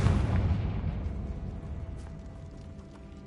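A Confringo blast spell explodes in the Hogwarts Legacy video game, a single booming burst at the start that rumbles and fades away over a few seconds.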